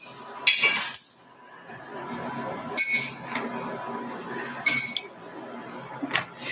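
Machined metal parts for a brake master cylinder or caliper clink together in a garage as they are handed over. Three bright, close clusters of ringing clinks are spaced a couple of seconds apart, with faint background voices.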